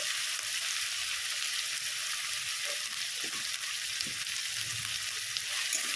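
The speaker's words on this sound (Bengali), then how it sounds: "পেঁয়াজটাকে একটু ভালো করে ভেজে নেব" Onions frying in a pan with a pinch of sugar added, a loud steady sizzle filling the whole stretch with occasional faint stirring scrapes underneath.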